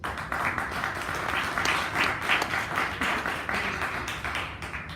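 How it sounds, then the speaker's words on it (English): An audience at a 2019 cannabis networking event applauds James Bell, a continuous, even patter of many hands clapping that fills the whole stretch at moderate loudness. "If you've ever heard of him, please give him some applause."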